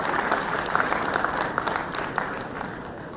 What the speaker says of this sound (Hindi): जोरदार तालियों के साथ इस ऐतिहासिक मौके के आप सभी गवाह बनिए हमारे साथ